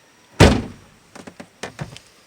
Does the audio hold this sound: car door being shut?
yes